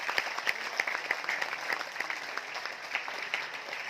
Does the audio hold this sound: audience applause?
yes